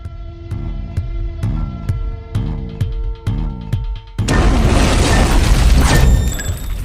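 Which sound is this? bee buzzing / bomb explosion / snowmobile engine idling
bomb explosion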